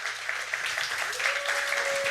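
Audience applause at a morning Valentine's-themed talent showcase event, a steady dense patter of many hands clapping close by for a couple of seconds, without any voices.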